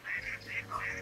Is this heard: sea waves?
no